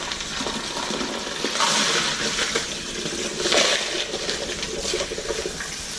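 Water runs and splashes as white stones are rinsed under a tap while repotting a Cattleya orchid, a steady splashing rush with brief louder gushes and faint clinks of stones, fairly close and without talk.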